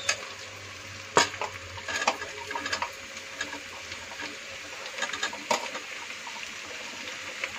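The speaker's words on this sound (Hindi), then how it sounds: "सारी सब्जियां इकट्ठा ही भून लेंगे" Onions and mixed vegetables for sambar fry together in a pan with a steady sizzle. A spoon gives close, irregular stirring scrapes and occasional sharp clinks. No one speaks.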